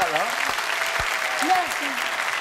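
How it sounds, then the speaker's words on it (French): A television studio audience applauds steadily for a variety show, a dense wash of clapping that fills the whole stretch at an even, loud level, with a host's voice briefly heard over it. "Applaudissements, mesdames, messieurs, pour Charlie, Lulu et Mireille Mathieu."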